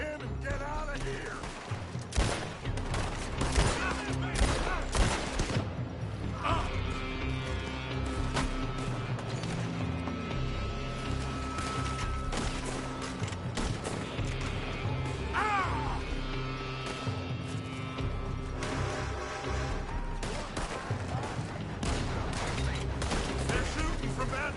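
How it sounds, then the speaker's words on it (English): Dense gunfire from a shootout in the video game Red Dead Redemption 2 rattles almost continuously, with repeated shots and crashing impacts layered over a tense musical score and occasional shouted voices. "They're shooting from that building."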